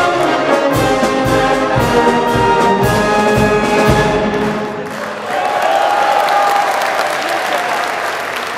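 Loud sustained applause from a concert audience after an orchestra performance, dense clapping with some cheering as the orchestra's last sustained notes ring out and fade early on.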